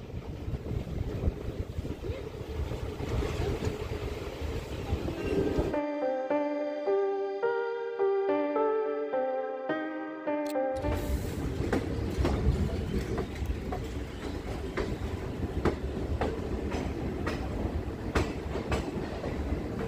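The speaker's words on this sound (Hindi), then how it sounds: "बिल्कुल 4:45 पर अपनी ट्रेन जो है जयनगर से निकल रही है" The Janki Express train rumbles out of Jaynagar in heavy rain, a steady, loud rolling drone that runs throughout. A short stretch of chiming tones in the middle briefly covers it.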